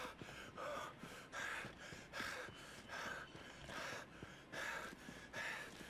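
Rhythmic heavy breathing from a track in the survival game Just Survive, faint, with about a dozen breathy gasping pulses at a steady pace, each a soft airy rush, alone with no talking.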